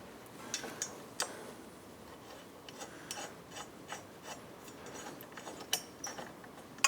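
A screw is driven into the frame of a 2024 Triumph motorcycle during exhaust header work: quiet, close, intermittent rasping and ratcheting clicks from the hand tool, with no talking.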